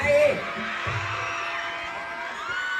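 A loud crowd screams and cheers continuously at an ancient Muay Thai show, with shrill whoops rising above the dense roar of voices.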